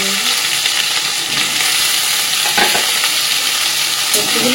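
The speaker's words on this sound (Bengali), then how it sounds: "সবজিগুলো একটু ভেজে নেবো" Potato, pointed gourd and pumpkin pieces fry in hot oil in a pan, a steady loud hissing sizzle with occasional stirring scrapes, continuous throughout with no speech.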